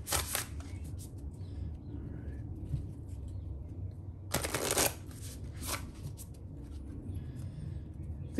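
Oracle cards shuffled by hand close up, soft riffling and flicking bursts with quiet pauses between them.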